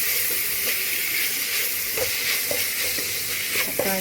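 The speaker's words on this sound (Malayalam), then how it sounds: "ഇനി ഇതിലേക്ക് നമ്മളിവിടെ മാറ്റി വെച്ച തക്കാളി ഇടുന്നുണ്ട്." Tomatoes hiss and sizzle as they fry with browned onions in a pan for a chicken puttu masala. A continuous close-up crackle runs throughout, with a few faint taps from stirring.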